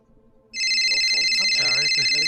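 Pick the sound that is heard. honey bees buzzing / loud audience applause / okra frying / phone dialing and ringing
phone dialing and ringing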